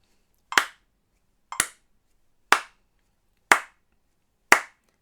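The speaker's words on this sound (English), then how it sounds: "So I'll play bang on with the click first" A metronome gives five sharp, evenly spaced clicks about a second apart. They are crisp and fairly quiet, with silence between them and no other instrument or voice.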